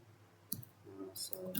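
A few quiet computer keyboard key presses, heard as sparse clicks in short clusters close to the listener, with no talking.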